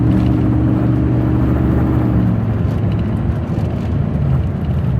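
A 2002 Dodge Ram 4x4 quad cab truck drives steadily with a loud, continuous engine drone and road rumble; the engine note holds strong and then eases slightly partway through, with no talking.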